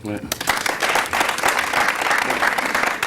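A studio audience applauding for the musician, dense sustained clapping that starts just after a brief voice and continues steadily, fairly close and loud.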